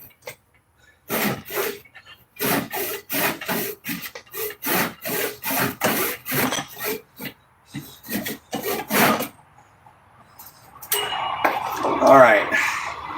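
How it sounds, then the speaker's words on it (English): Hand sawing through wood, a steady back-and-forth rasp of about a dozen close strokes in a regular rhythm, pausing briefly before a rougher scraping burst at the end. "Since I don't feel like sawing all the way through this thing."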